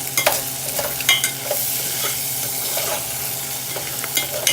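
Bacon sizzles steadily in a pan while it is stirred, with scraping clicks and spatula knocks scattered through the frying hiss. The sound is close and fairly loud, and no one speaks.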